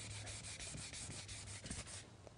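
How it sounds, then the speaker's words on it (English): Fine 600-grit sandpaper rubbing over chipped truck paint to feather in heavy chips, a steady close scratchy back-and-forth rasp with regular strokes and no talking. "I went through and finished sanding all the heavy chips with the 600 grit sandpaper"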